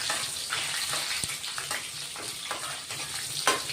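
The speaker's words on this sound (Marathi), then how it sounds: "लसणाची फोडणी चांगली बसली ना," Garlic tempering hissing in hot oil, a continuous close sizzle with a few soft knocks from stirring, no voices.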